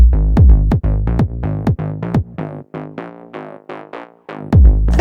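Layered tech house bass line built in FL Studio, the second section, playing alone as a steady run of punchy, plucky low notes with strong sub hits at the start and end and short gaps between phrases.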